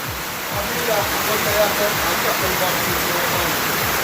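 Heavy rainwater rushing through a gutter at a poultry farm, a loud continuous wash of flowing water with no talk.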